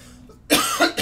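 A person with phlegm stuck in the throat gives a sharp, loud, wet cough after a brief quiet pause, followed by a second shorter cough close up.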